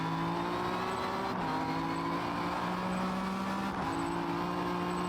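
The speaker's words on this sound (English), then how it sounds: "There's a car coming out of the pits." A race car in Forza Motorsport leaves the pits, its engine droning steadily with rising pitch and two brief gear-shift dips, loud and close, with faint tire noise and no voices.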